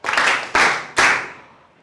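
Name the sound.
students clapping for themselves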